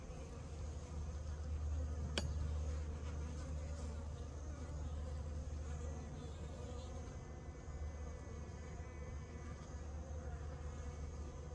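Honey bees from new packages drone in and around a hive during queen marking, a steady low buzz close by with a few individual bees passing nearer, faint background noises, no speech.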